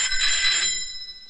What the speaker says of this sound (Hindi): फोन बज रहा है तेरी बोगस बाप।